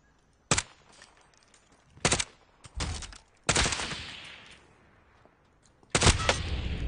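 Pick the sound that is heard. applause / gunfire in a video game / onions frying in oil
gunfire in a video game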